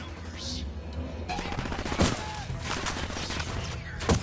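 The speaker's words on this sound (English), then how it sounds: "Opening fire on these fuckers." Gunfire in Ghost Recon Wildlands: a dense fusillade of rapid automatic shots with scattered louder close cracks, steady and loud across the whole stretch, no voices.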